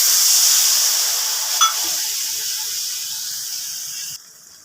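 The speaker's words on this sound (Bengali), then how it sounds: "এবারে দিয়ে দিচ্ছি এক বাটি জল।" A bowl of water poured into a hot pan of cauliflower throws up a loud, steady steam hiss that slowly fades, then cuts off abruptly near the end.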